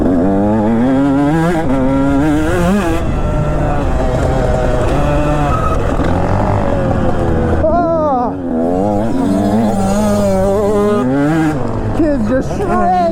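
A two-stroke dirt bike revs and rides loud and close throughout, its engine note rising and falling as it works over jumps, with a voice talking over it.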